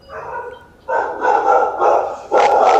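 Dog barking at a home's front door, caught by a doorbell camera: three or four loud, close barks in quick succession, with a softer whine before them.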